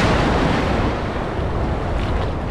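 Ocean surf breaks at the first breaker as a boat heads out through rough Gulf water, a loud continuous wash of crashing water mixed with heavy wind buffeting the microphone.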